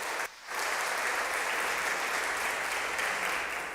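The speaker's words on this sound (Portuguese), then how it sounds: "Uma salva de palmas para essa família abençoada." A church congregation at a celebration service breaks into loud, sustained applause for a blessed family, the clapping starting abruptly after a brief lull and holding as a dense, even roar.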